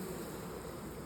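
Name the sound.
honey bees buzzing in opened bee box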